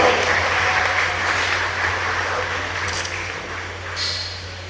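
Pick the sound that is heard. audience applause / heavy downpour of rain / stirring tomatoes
audience applause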